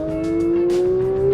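A Porsche 992 GT3 builds revs, its engine note climbing steadily and loudly from inside the cabin, with no one speaking over it.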